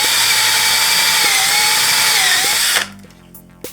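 A power drill whines steadily at high speed while boring holes into the back of a Bible, its pitch wavering slightly as it bites, then cutting off abruptly near the end, leaving a faint low hum.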